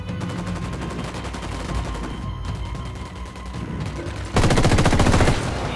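Gunfire in Ghost Recon Wildlands: steady rapid shots crackle throughout, then a louder, closer burst of automatic fire erupts near the end and rattles on.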